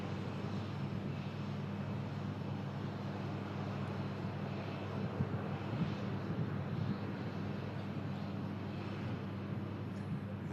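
An airliner touching down on an airport runway, a steady distant jet roar that stays fairly faint and even throughout, with no talk.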